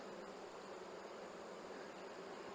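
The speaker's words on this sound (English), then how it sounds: "Lots of young bees." Honey bees, many of them young, buzzing in an open hive during a winter prep inspection, a dense, steady drone that stays even and fills the whole stretch, close and without talk.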